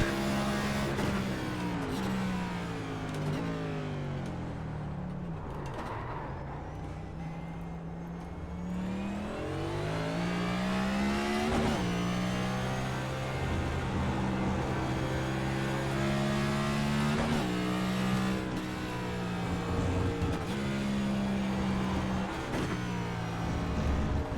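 A race car engine in the iRacing sim at Circuit of the Americas holds a steady, loud drone for the whole lap section. Its pitch sweeps up and down through gear changes and corners, with no talking.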